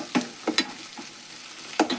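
Garam masala sizzles in a generous amount of oil for a potato gravy, a soft constant frying hiss close by, punctuated by a few sharp scrapes and taps of a stirring spoon against the pan.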